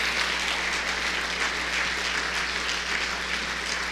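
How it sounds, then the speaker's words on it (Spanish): A church congregation claps together in praise, producing a dense, continuous wash of applause that holds at an even, fairly loud level from start to finish, with a low steady hum underneath. "un aplauso al Señor."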